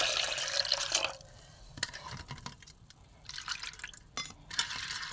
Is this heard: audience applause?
no